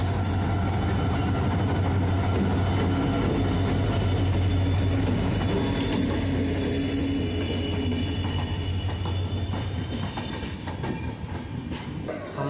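Amritsar–New Jalpaiguri Express standing at a station platform in Siliguri, its loud, steady rumble and hum carrying throughout with metallic squeals and clanks of the carriages, no voices present.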